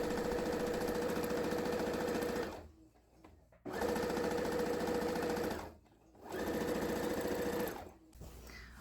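A sewing machine quilting straight lines through fabric runs in three steady, buzzing stretches separated by brief pauses, close and even in loudness with no talking.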